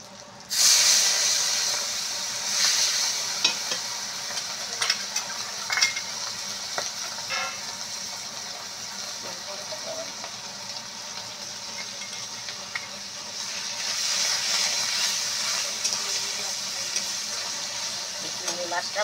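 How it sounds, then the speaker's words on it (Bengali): Prawns dropped into hot oil with bay leaf, dry red chilli and panch phoron for a Bengali Malabar spinach dish, giving a loud, steady sizzle with scraping stirs and spattering pops that swell again near the end. "পাঁচফোড়নটা দিয়ে এবার আমি এর মধ্যেই চিংড়ি মাছটা দিয়ে দেবো।"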